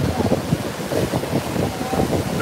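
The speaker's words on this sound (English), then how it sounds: "all of these waves that are coming in here, crashing in" Ocean waves crashing in along a shore, a rough continuous wash of surf mixed with heavy wind buffeting the microphone, no talk.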